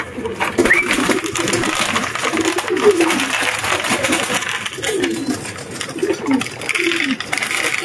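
Soft pigeon-like cooing repeats through steady background noise, with faint clatter and a brief higher chirp early on.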